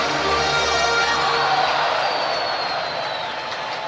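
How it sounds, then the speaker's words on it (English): Sellout crowd at a Chicago Cubs versus Milwaukee Brewers NLDS playoff game, a broad, constant roar of many voices filling the ballpark, loud and unbroken, tapering slightly toward the end. "Sellout crowd on hand."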